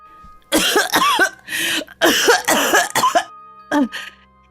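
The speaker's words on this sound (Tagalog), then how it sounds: "Patuloy ang kanyang pag-ubo at lalo itong lumalala." A person coughs repeatedly in harsh, close bursts, a series of rough hacking coughs with short gaps between them.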